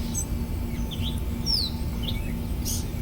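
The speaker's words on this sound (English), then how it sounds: "Just listen to the bird song and enjoy the sunlight before it gets too hot." Birds sing in the early morning near a front stoop, with several short chirps and rising whistled notes scattered across a few seconds over a constant low background hum, fairly close and clear.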